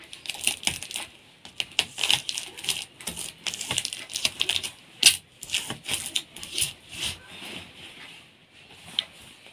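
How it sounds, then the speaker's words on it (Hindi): Adhesive tape being pressed and applied around a screen printing frame, a close run of irregular crackles, taps and sticky clicks with short pauses between them and no speech. "इस तरीके से मैं यहाँ पर लगा देता हूँ टेप।"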